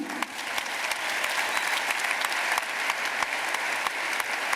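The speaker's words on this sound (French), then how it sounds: "je vous demande de remercier et d'applaudir une dernière fois nos 4 intervenants de ce soir" Sustained audience applause at the close of a conference debate, a dense wash of many hands clapping steadily throughout, fairly loud and without talk.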